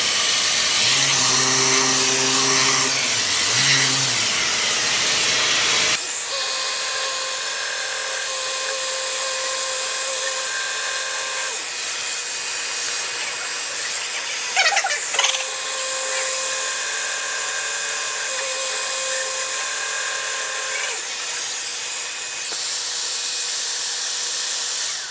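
Sandpaper worked against a dyed-rim wooden platter spinning on a lathe, a steady loud whirring hiss with shifting tonal whine as the paper moves, continuous for the whole stretch with a brief scrape midway.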